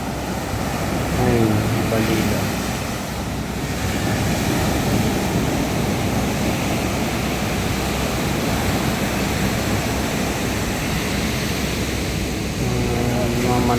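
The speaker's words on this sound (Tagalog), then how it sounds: "tabing dagat yan, ganyan pa rin yung alon, no? Malaki." Big ocean waves wash continuously onto the seashore at Bucana in a broad, steady roar of surf, with people talking briefly over it.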